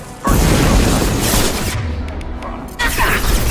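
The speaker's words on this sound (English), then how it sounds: "A misplaced shot can cause a significant explosion." Crates of unstable material blow up in the video game Mass Effect 2. A loud, sustained roaring blast rumbles and fades, then a second burst follows near the end.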